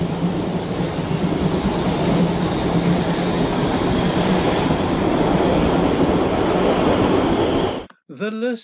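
Busy steam train on Germany's Lößnitz Valley Railway, a steady loud rumble of running noise with rhythmic wheel clatter throughout, cutting off abruptly near the end, where a brief squealing tone follows.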